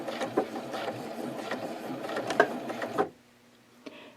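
A sewing machine stitches fabric in reverse, running as a steady, fairly close mechanical whir for about three seconds before stopping, followed by a single faint click.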